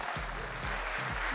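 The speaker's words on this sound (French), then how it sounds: "Je crois qu'on peut les applaudir aussi." An audience at a sports awards podium ceremony claps for the town's sports department, a brief, faint patter of applause under low, thumping background noise.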